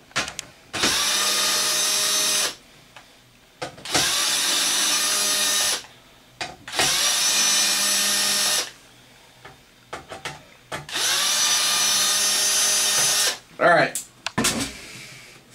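Power screwdriver set to its lowest clutch setting backing screws out of an Xbox 360 with red ring fault, four sustained whirring bursts separated by short pauses, plus clicks and someone speaking briefly near the end.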